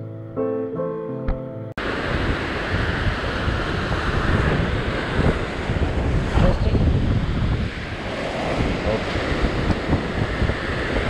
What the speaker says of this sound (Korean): 바람이 지금 상당히 많이 불어서 캐스팅하기가 상당히 힘들어요